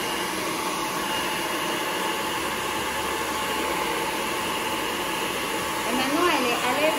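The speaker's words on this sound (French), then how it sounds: "Si tu veux, tu branches ton sèche-cheveux après." A hair dryer used while styling hair in a hairdressing training session: a steady, close, loud airy roar runs without a break, with faint movement near the end.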